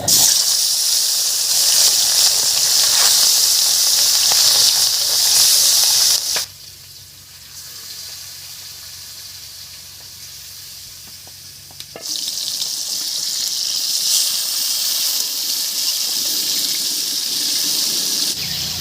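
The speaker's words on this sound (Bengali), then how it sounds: "তেল গরম হয়ে গেছে এবারে মাছগুলো ভেজে নিচ্ছি" Loud, steady sizzling of fish frying in hot mustard oil. The sizzle drops noticeably quieter for several seconds midway, then returns to full strength.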